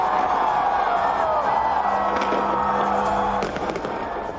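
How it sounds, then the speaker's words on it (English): New Year fireworks over London in the city's biggest display, a dense continuous roar of bursts and crackles with sharp bangs near the end and a crowd wash underneath, loud and distant-sounding, no clear talk. "The UK rings in the new year with a nod to the coronation in London's biggest ever firework display"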